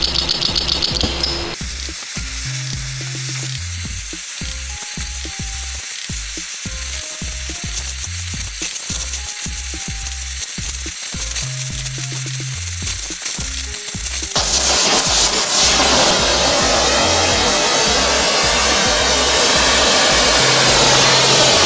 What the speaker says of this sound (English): All right, let me fire up the torch.